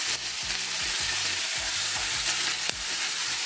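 Green onions sauté in a pan with a steady, close hiss of frying, broken by soft stirring movements and one sharp click near the end; no one speaks.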